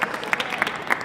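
A small group of people at a 2020 event with no other audience gives themselves brief, scattered applause, a few sharp claps at close range over a soft background.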